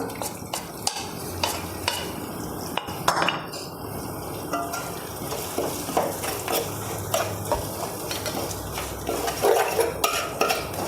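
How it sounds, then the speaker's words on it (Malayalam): Heated spice powder stirred into softened sautéed onions in a pan, a steady sizzle and fry with repeated scraping and clinks of a spoon against metal, close and continuous with no talk. "ഈ സമയത്ത് നമുക്ക് ചൂടാക്കി വെച്ചിരിക്കുന്ന ഈ പൊടി അങ്ങോട്ട് ഇട്ട് കൊടുക്കാം"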